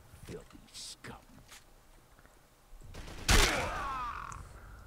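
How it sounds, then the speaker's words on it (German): Pistol gunfire in the online shooter District 187, with one loud sharp shot ringing out midway, preceded by scattered softer impacts and footsteps, a voice heard talking in the game. "Mit der Pistole musste ich schießen."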